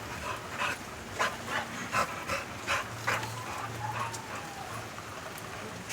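Bully breed dogs romping outdoors in the rain, with scattered panting and snuffling bursts at a steady interval over a constant patter of rainfall, a low hum underneath.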